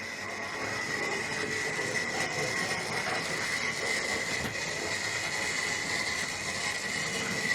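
Hornby GWR Churchward model locomotive, a 460 with traction tyres on the rear wheels, running over points: a steady, close mechanical rolling whir with a faint metallic whine, continuous throughout without talk.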